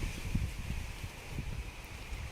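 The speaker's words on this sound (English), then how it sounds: "It's very windy." Wind buffets the microphone in low rumbling gusts over a garden with raised beds, with a soft rustle of leaves underneath and no talking.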